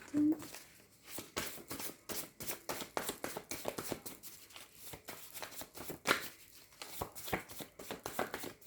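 Tarot deck being shuffled by hand in steady rapid riffles and taps, close and crisp, with a speaker's voice underneath at times.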